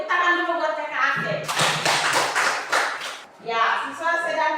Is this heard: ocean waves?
no